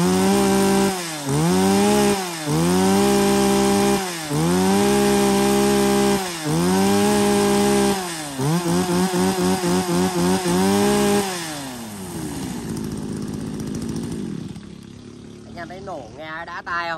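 A used Japanese two-stroke chainsaw of the STIHL, Echo Kioritz, Makita or Ryobi class test-run in a used-saw lot, loud and close, revved in repeated bursts of rising whine, then idling and sputtering down.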